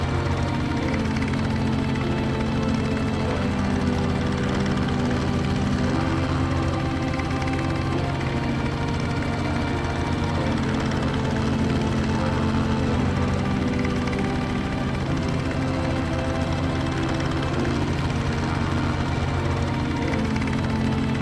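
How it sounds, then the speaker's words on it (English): A helicopter hovers overhead in the video game The Low Road, its loud, steady rotor and engine drone unbroken from start to finish with no talking. "What's that noise? Is that a helicopter?"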